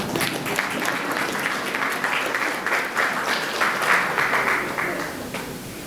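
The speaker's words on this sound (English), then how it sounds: "You should clap." Audience applause at a talk in Dallas, a steady roomful of clapping that swells and holds for several seconds before starting to thin, fairly close and full, with no voices on top.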